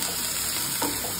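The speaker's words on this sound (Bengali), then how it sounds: "আর একই তেলের মধ্যে পেঁয়াজগুলো দিয়ে দিচ্ছি পেঁয়াজ কুচি" Chopped onions with a pinch of salt sizzle loudly in hot oil, a dense, continuous frying hiss up close with a slight stirring shift near the end.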